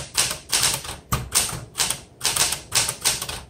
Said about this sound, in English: let's go ahead and do some typing